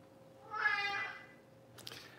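A house cat meows with a drawn-out, rising yowl, fairly near and alone over a quiet room, followed by a shorter, sharper call.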